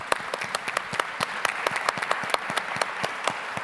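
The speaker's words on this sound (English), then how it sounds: "Round of applause." An audience at a conference session in a hall gives a round of applause, with dense, steady clapping from many hands at moderate distance and no voices over it.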